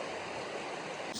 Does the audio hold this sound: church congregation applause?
no